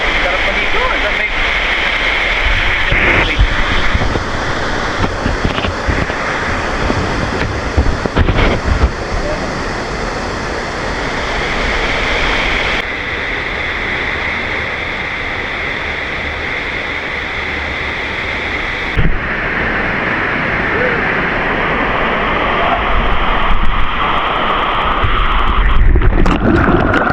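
The Otso-Otso Falls waterfall roars loud and continuous up close, a broad rushing wash with gusts of wind noise, and people talk over it at times.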